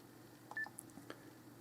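Faint telephone dialing tones sound while calling a GP surgery in the UK: a brief beep and a few soft key tones over steady line hiss.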